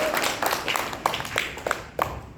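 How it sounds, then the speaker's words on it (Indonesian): Thin, weak applause from a small audience at an evening meeting: sparse, uneven claps at close range, fading and irregular rather than a full ovation. "Kayaknya tepuk tangannya makin lemah."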